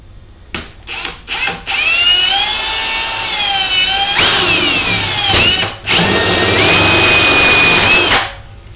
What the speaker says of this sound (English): I usually do this with the drill going the right way